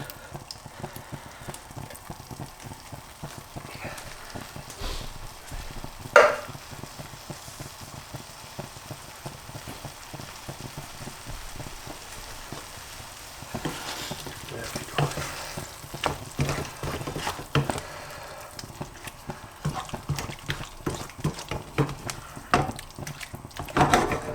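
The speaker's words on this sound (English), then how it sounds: "We'll let that simmer" Chicken curry with tomatoes simmering in a pan, a steady soft sizzle and bubbling crackle with occasional sharper pops and scraping stirs, fairly close and continuous.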